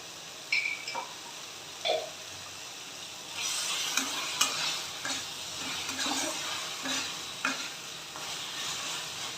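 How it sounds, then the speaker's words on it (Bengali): Spinach stirred and fried in a little ghee in a pan, a steady sizzle with scraping spatula strokes and a few sharp utensil clinks, close and alone without talking. "এবার লাস্ট পর্যায়ে একটুখানি ঘি দিয়ে ভাজা ভাজা করে নামিয়ে দেবো।"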